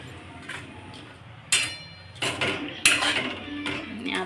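Homemade black masala goes into a cooking pot with oil-fried potatoes, heard as a few distinct metallic clanks and scrapes of a spoon on the pot over a faint background.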